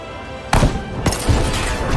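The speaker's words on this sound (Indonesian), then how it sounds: "2 kali tembakan." Two sharp sniper rifle shots in a war film ring out about half a second apart, loud and close, each trailing into a reverberant rumble.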